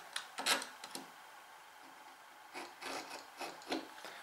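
A sharp knife drawn across oak hardwood to score a marking line, giving short dry rasping scratches in two clusters with a quiet gap between, close and fairly faint.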